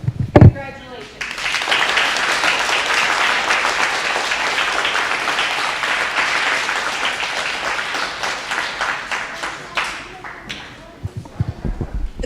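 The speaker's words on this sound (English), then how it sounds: "would you stand up and we'll applaud" Sustained, dense applause from an audience at Truman's 5th grade celebration honors the 5th grade class of 2021, filling the room for about ten seconds, with a voice heard briefly before it starts and again as it dies down.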